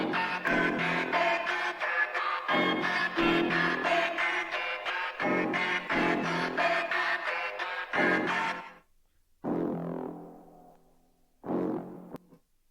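Chopped samples are triggered from the pads of an MPK keyboard, playing as loud, dense musical bursts in choppy rhythm before breaking into shorter, sparser hits with gaps near the end.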